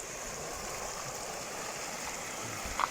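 Running water in a river in the middle of a desert, a steady, even rush and hiss of flowing water heard close by without pause, with a small knock near the end.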